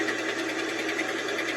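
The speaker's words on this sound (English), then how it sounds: "Yeah, it's the header leaking there. I can tell." A 1971 Buick Skylark engine with a leaking exhaust header runs with a steady, rapid ticking rattle, close and even, with no pauses.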